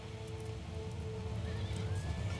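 Life guard cavalry horses in an Empire: Total War battle, a massed unit of about 300, with whinnying and neighing over a dense, continuous battlefield rumble and no speech.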